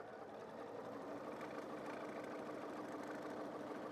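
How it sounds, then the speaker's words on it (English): A Pfaff Ambition 620 sewing machine sews a stretch stitch on a small seam, producing a steady, fairly quiet mechanical hum and rattle throughout, with no talking. "I'm going to go ahead and let it do that stretch stitch."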